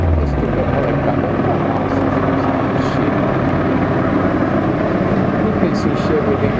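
A helicopter flies overhead above a flipped box-trailer truck, its loud steady rotor and engine roar continuous throughout, with people talking beneath it.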